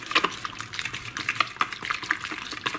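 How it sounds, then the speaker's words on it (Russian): Soap mixture for cleaning copper coins is stirred by hand in a container, giving a series of close, irregular clinks and wet sloshing scrapes with no talking. "Теперь все это дело надо перемешать."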